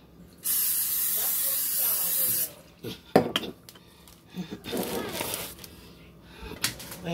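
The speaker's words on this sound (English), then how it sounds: "spray my pan." A strong hissing burst of spray for about two seconds, followed by clattering of pans and utensils with some talking.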